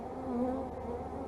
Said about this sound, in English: There's a fuzzy little bee right there.